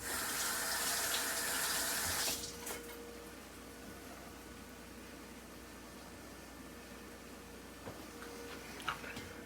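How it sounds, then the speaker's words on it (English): Tap water running hard over produce in a kitchen sink, a loud steady rush for about two seconds before the flow drops to a quieter trickle with small clinks. "Let's give these a washing real quick."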